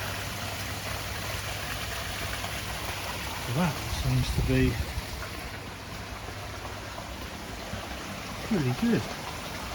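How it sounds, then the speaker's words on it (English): Running water from a koi pond waterfall and an outdoor shower, a steady broadband rush throughout with brief speech over it. "Shower's running, waterfall's running."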